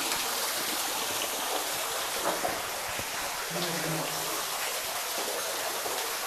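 A waterfall inside Belum Caves gives a steady, broad rushing wash of falling water that fills the whole clip at an even, fairly loud level.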